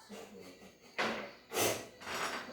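A few short, forceful nasal blasts close to the microphone, spaced apart, as someone blows their nose.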